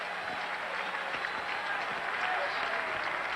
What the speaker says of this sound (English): And this crowd whooping it up.